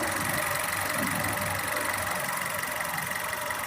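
A 2021 Maruti Suzuki Swift Dzire VXI petrol engine idles steadily nearby, a smooth, even hum with no talking.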